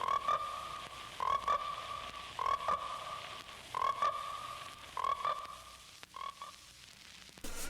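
Frogs croaking at a pond in the Frogs movie trailer, loud repeated trilling calls in regular bursts about every second and a half, close and clear with no talking.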